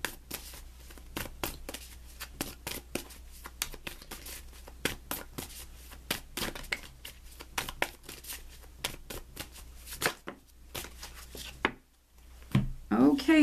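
Tarot cards being shuffled by hand, with a long run of quick crisp riffling snaps close up, a brief pause, then a few more rustles.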